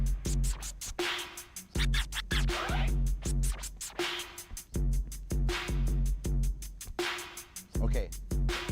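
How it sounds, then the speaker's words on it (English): A DJ scratches a record in traditional eighth-note chirps across two sounds, a fast, even run of short cut-off swipes repeating steadily throughout, fairly quiet and up close. "Traditional 8th note chirps on both sounds."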